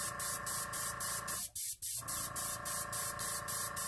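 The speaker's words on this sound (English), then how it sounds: "But notice I didn't have to move my airbrush at all." An airbrush blowing air to dry alcohol ink hisses close by in rapid, even pulses of spray, with one short pause partway through.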